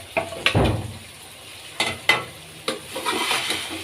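A spoon scraping and tapping in a pan as spices are stirred into bitter gourd curry, with a string of sharp clinks and scrapes over a faint sizzle, close and moderately loud, no voices.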